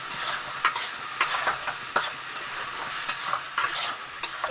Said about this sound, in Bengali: ঢাকনাটা খুলে একটু নেড়ে নেব।